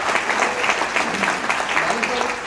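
Dense applause from a seminar audience fills the room, steady clapping throughout with voices mixed into the noise.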